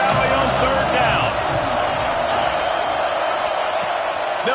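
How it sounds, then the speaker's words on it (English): A big football crowd in Happy Valley roars on third down, a dense, loud, sustained wash of noise that stays steady throughout, with a commentator talking over it. "Here comes the noise from this big crowd in Happy Valley on third down."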